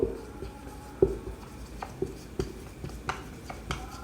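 Pen or chalk writing out a geometry equation by hand, a series of short scratchy strokes and taps at an even pace, close and fairly quiet, with no talking.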